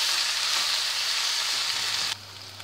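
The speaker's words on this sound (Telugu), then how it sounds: "ఇప్పుడు దీన్ని హై ఫ్లేమ్లో పెట్టి ఆనియన్స్ అన్నీ ఫ్రై అయ్యేదాకా చూసుకోవాలి" Sliced onions frying on high flame with turmeric and salt for egg biryani, a dense, steady sizzle up close that drops abruptly quieter near the end, with no talking.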